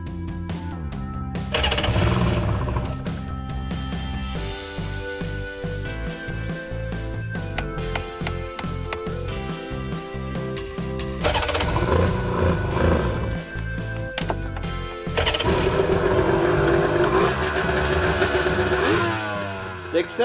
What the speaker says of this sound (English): Success! The engine seems to be running pretty well.